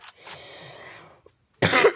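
A person coughs in a short burst of harsh coughs and throat clearing, close to the microphone, ending in one loud forceful cough after a brief pause.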